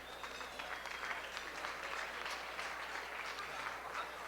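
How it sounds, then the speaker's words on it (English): Banquet guests at a Jewish community dinner clap together in a steady, moderately quiet round of applause, an even crackling patter across the room with no one speaking. "You can clap for that."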